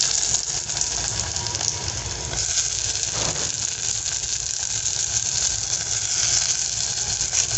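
Onion, coconut-garlic paste and tomato fry in a pan for masoor dal, giving off a steady, close, dense sizzle that carries on without pause and with no voices over it.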